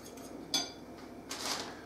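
Metal fork clinking against a bowl while beating three eggs in a home kitchen, two short bright clatters separated by a pause, fairly quiet and close with no talk.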